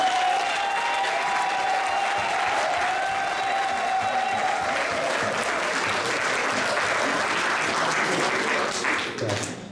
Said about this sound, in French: j'aimerais une dernière belle grosse main d'applaudissements.